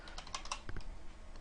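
Soft, quiet clicks of typing on a computer keyboard tap out in a short irregular burst of keystrokes, faint and close, with no talk over them.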